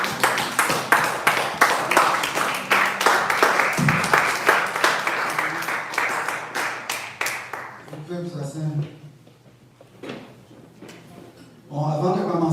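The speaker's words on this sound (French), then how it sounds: "Est-ce qu'on peut l'acclamer encore une fois?" A church congregation claps loudly and rhythmically in unison for several seconds, then the clapping stops and a voice speaks.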